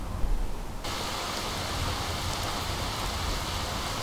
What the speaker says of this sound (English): we could wait till the rain stops